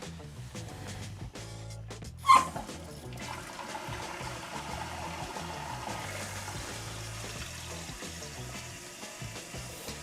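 A toilet tank refills after a new fill valve is fitted and the water supply is turned back on: a steady, fairly quiet rush and trickle of water running throughout, with one brief knock near the start.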